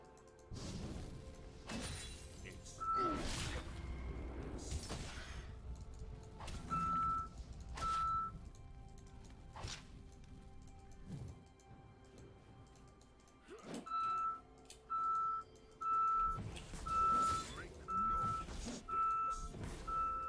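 Reversing beeps from a car or truck outside sound in repeated evenly spaced bursts, fairly loud over background room noise, with thumps and clatter in between.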